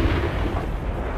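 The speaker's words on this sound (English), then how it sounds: "Everything he's shooting at me is coming off of my armor." Shots strike tank armor in a video game as a continuous, loud, booming rumble of impacts and blasts. It lasts just over a second with no pauses.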